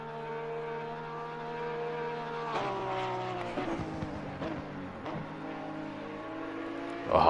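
A Porsche 911 race car engine in Assetto Corsa Competizione drones steadily with shifting harmonic pitch, a synthetic video-game engine tone, ending in a sudden louder burst.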